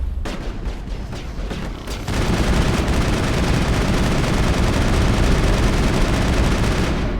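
Sustained rapid gunfire from the player's weapon in Mass Effect, a dense continuous burst of shots that grows louder and fuller partway through and runs steadily to the end, with no talk over it.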